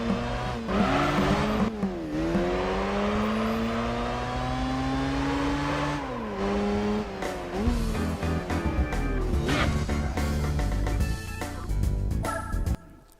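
Mazda RX-7 rotary engine in Gran Turismo 4 Prologue, revving loud and continuous with gear-shift dips and rising pitch sweeps, ending in a burst of tire squeal and skidding.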